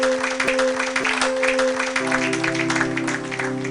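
A church congregation claps at a preaching service, producing a steady patter of applause over sustained musical tones, moderately loud and continuous for several seconds with no clear speech.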